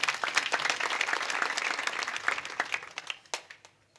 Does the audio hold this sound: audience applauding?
yes